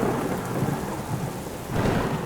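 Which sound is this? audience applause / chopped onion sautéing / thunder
thunder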